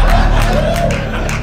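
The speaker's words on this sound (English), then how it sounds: "The crowd's heckling each other now." A comedy club audience at a roast show calls out and heckles one another, a loud, dense mix of overlapping shouts, murmurs and chatter filling the room.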